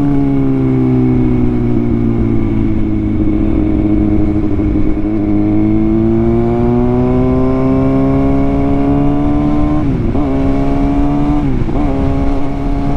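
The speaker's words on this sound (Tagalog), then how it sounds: "first step on the ignition, tapos idle ng 30 seconds or 1 minute" A 2022 Kawasaki ZX6R sits idling just after ignition, a close, steady, even engine hum with two brief throttle blips near the end.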